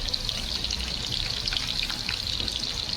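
Garlic sizzling in hot oil, a steady dense crackle and hiss held at an even level with no talk.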